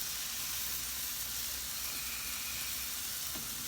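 Babyback ribs and vegetables sear on a flat steel cooktop with a steady, dense sizzle and hiss that stays close and even throughout, with no voices.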